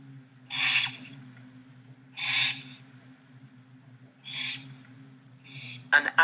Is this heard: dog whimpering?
no